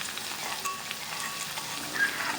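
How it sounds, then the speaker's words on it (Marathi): Garlic and green chili paste sizzles and spatters steadily in hot oil for a rustic village-style gram greens dish, a close, continuous frying hiss with faint stirring. "मिरचीचं वाटण आहे. तर आपण याला परतू देऊया यामध्ये तेलामध्ये."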